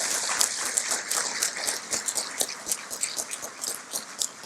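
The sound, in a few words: audience applause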